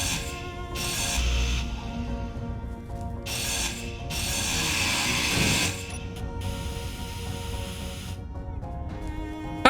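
A grinder tool grinds down blocks in a video game, giving a loud, continuous mechanical whir that runs in several long bursts with brief gaps between them.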